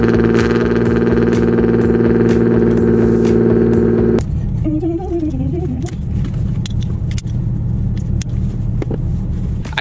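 A Nissan GTR cold start: a loud, steady high idle drones close by, then drops abruptly to a lower, rougher rumble with scattered clicks.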